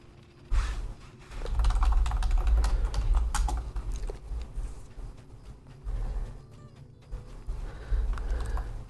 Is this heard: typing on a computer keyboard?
yes